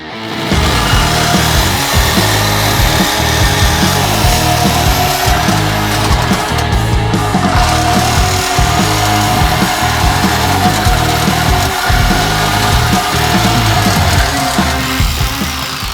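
A Sawzall reciprocating saw cuts through the muffler pipes on a Corvette, a loud, continuous buzzing grind with a steady rapid stroke rhythm that runs nearly unbroken and close up.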